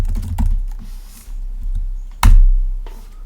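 Close, loud typing on a computer keyboard, a few scattered key taps and presses with gaps between them, no talk.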